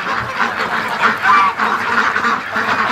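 Muscovy ducks give a steady stream of overlapping quacks and honk-like calls, loud and near, with no talk.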